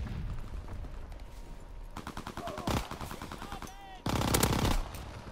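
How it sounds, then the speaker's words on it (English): Rapid bursts of automatic gunfire from a teammate in Call of Duty WWII, loud crackling volleys in short strings, with a heavier burst near the end. "Oh, and now my teammate shoots me."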